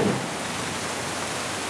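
Heavy rain pouring steadily during a storm with a tornado warning in Walla Walla, a dense broadband hiss that stays constant and loud from start to finish, with no voices.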